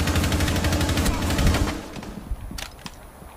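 Rapid automatic gunfire from Rainbow Six Siege rattles loud and close for about a second and a half, then breaks off into a few scattered sharper shots and impacts.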